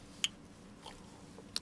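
Biting into fish-shaped bread (bungeoppang): two crisp, sharp bites about a second apart with faint chewing between them, close and quiet, no talk.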